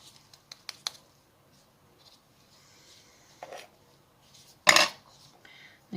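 Small resin-craft items tipped into a mould, a loud brief clatter near the end after a few scattered light ticks and taps, with otherwise quiet room noise and no talk.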